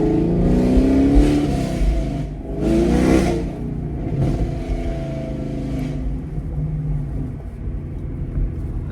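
Chevrolet Camaro SS V8 engine running: a deep, throaty rumble at idle with two strong revs early on that swell and fall back, then a steady lower burble, close and loud with no talking.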